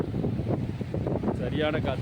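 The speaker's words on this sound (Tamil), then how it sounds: "சரியான காற்று," Strong wind at the seashore, where nets are cast for fish, buffets the microphone in a steady, rumbling roar that mixes with surging water.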